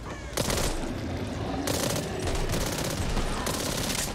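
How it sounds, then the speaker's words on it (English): A machine pistol fires in Back 4 Blood: loud, rapid, sustained bursts of automatic fire over about four seconds, with a few sharper peaks standing out in the stream. "This is a nice machine pistol."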